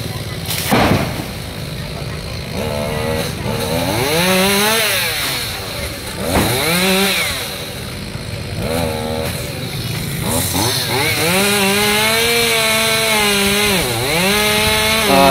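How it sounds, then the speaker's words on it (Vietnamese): A chainsaw cuts through the crown of a coconut tree at a home near a roadside, its engine loud and close, revving and bogging in repeated rising and falling strokes, with traffic hum beneath. "Rồi em thợ cắt cái đọt dừa đó các bạn"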